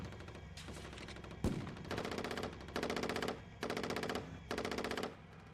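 Coaxial machine gun on a Canadian combat vehicle firing four sustained bursts of roughly a second each, loud and close, preceded by one sharp single report.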